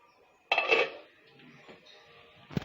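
A cooking pot's lid is lifted off in a kitchen during cooking, giving a sharp metallic clatter of lid against pot rim, then quieter scraping and handling of cookware, with a brief thud at the end.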